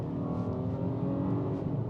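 Steady V6 engine drone of a 2021 Volkswagen Atlas SEL Premium R-Line under acceleration, a continuous loud hum with layered engine harmonics heard from inside the cabin, with no talk.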